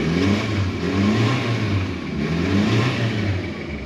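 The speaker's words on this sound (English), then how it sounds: "You can actually hear the turbo spool." Automatic JDM car with a Recaro seat and 140,000 km revving steadily, its engine note rising and falling across two revs with a faint turbo spool whir, close by and fairly loud.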